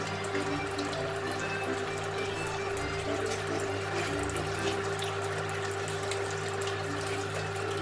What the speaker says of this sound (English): pounding all the tomatoes through. All the skins are coming out the side